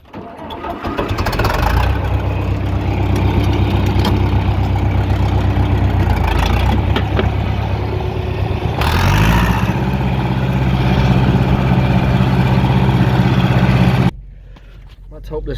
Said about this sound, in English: Let's get this tractor out of the way.